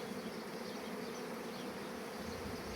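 Honey bees on hive frames filled with nectar, May honey season, a dense steady buzz of many insects close by, continuous and even with no voices.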